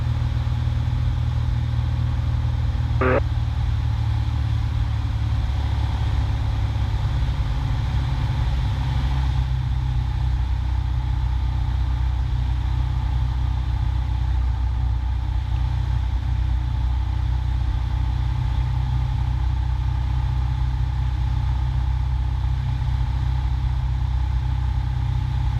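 A light aircraft's engine drones steadily at reduced power on a landing approach, a constant close low rumble lasting throughout with a single brief tone early on and no voices.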